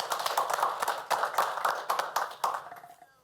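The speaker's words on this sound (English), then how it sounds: "I just want to give them a round of applause" A small group gives a short round of applause at a committee meeting, scattered uneven claps close by for about three seconds before trailing off.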